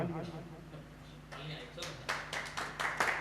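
A small group of friends claps briefly after talking, a few quick, scattered claps that grow sharper toward the end and follow speech.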